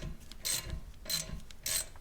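A 1/4-inch ratchet loosens the ABS sensor bolt on a 2020 Mustang GT. It gives three rasping bursts of clicks at an even pace, close and moderately loud.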